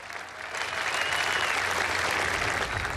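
An audience applauds after a speech, a dense, even wash of clapping that swells after a soft start and holds steady, moderately distant and with no voices over it.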